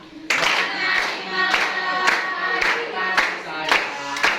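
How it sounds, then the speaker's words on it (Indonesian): A group of people claps hands together in a steady rhythm, roughly two claps per second, loud and close, as a classroom gathering prepares to sing. "Semua sambil tepuk tangan ya."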